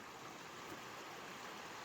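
A stream flows near the Virginia border in rural Tennessee, a steady broadband rush of running water that stays even and constant throughout.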